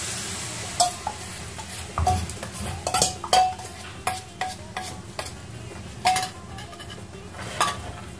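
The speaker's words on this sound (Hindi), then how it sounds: "इसे अच्छे से मिक्स करना है हमें" A paste for shahi paneer is mixed in a pan, with a series of sharp spoon clinks and scrapes at an uneven pace and a faint sizzle running quietly underneath.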